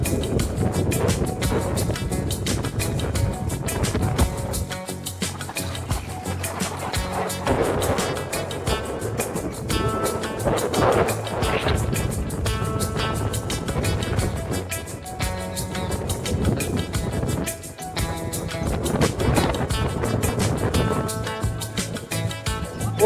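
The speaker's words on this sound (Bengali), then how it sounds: "দেখুন নদীতে ঢেউ আর ঢেউ।" Strong wind and rough river waves roar in a continuous, dense wash throughout, with the pounding choppy water loud and close on a windy, rain-threatening day.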